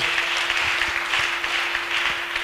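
Steady, dense clapping from a crowd applauding in praise of God fills the whole stretch, a continuous wash of hand claps without pauses or voices.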